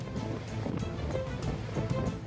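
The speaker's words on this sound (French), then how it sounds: "Des vagues de 18 mètres de haut balayées par le vent balancent cette plateforme comme un berceau." Ocean waves surge and crash around an offshore oil platform in force 10 winds, with 18-metre wind-driven swells; a dense, continuous roar of water and wind noise runs steadily throughout with no pauses.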